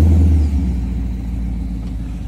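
A custom Ford Mustang's engine revs loudly as the car pulls away, a deep, close roar that eases slightly and then holds steady.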